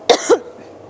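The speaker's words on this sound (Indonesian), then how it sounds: "Boleh batuk nggak apa-apa dok." Two quick harsh coughs from one person close to the microphone, loud and abrupt, fading into quiet room tone.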